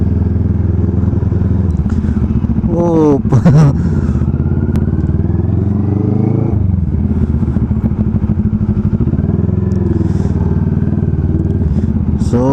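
A Kawasaki NK400 motorcycle engine warms up, running steadily and loudly throughout, with a few clattering knocks and a brief exclamation from a voice.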